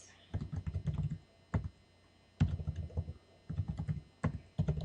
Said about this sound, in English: I'm going to go ahead and type in my date.